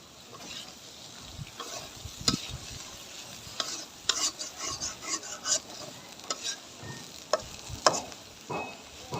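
Kohlrabi and egg fry in a pan while a utensil scrapes and stirs with irregular close clacks over a faint sizzle, no talking.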